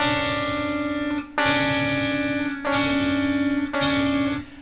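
An electric guitar strikes a harsh, clashing flat-nine interval four times, each chord ringing out with buzzy overtones before the next strike.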